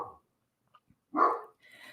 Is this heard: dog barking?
yes